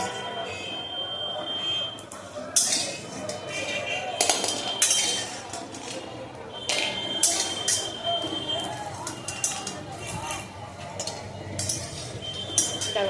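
Fried lentil dumplings (bori) are lifted out of a pan in a home kitchen, with bright metallic clinks and scrapes of a utensil against the pan coming in irregular bursts at close range.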